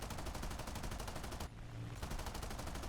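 Machine guns of a P-51C Mustang fighter fire in a flight combat video game, a continuous rapid rattle over engine drone that breaks off briefly for about half a second, then resumes at a steady, loud pace.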